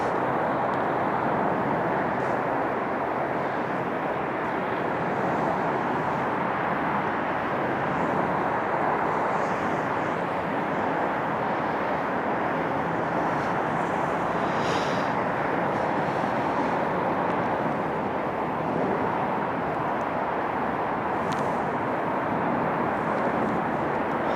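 An Air Canada Express Embraer E175 jet at snowy Toronto airport makes a steady, broad roar that holds at a constant level for the whole stretch, with no talking.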